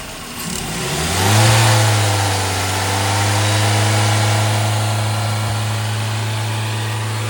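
A Toyota Will's car engine revs up sharply when gas is given, then settles into a steady, elevated drone, heard up close with no talking.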